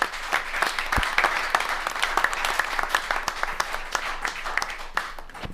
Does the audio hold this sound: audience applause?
yes